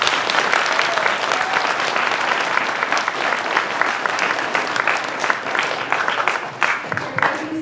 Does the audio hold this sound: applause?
yes